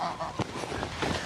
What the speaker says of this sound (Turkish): Şu anda 200 kazımız var.